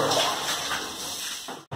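Water pours and splashes steadily during a bath, a close, continuous gushing that cuts off abruptly near the end.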